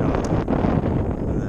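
Strong gusts of about 30 mph blow across a dock, giving a loud, constant rumbling buffet on the microphone that stays at the same level throughout the short stretch.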